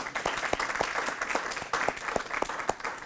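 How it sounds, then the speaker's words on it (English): Audience applause for a school nurse at an elementary school wellness center ribbon cutting, a steady crowd of clapping hands with sharp individual claps standing out, fairly close and sustained throughout. "let's give her a nice round of applause"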